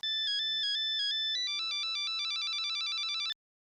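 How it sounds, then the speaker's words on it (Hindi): A bright electronic phone ringtone plays a quick repeating melody of beeps, close and clear, then cuts off abruptly. "मोबाइल की रिंग बजी तब आप जगे।"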